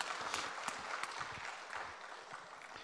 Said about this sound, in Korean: 다시 한번 우리 박수 한번 하겠습니다.